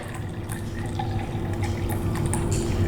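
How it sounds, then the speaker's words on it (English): Water poured slowly into a tumbler, a steady trickling with a low, gradually rising liquid filling tone, close and alone. "So I am going to pour water into this tumbler."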